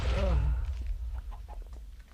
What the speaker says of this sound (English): We got some chicken.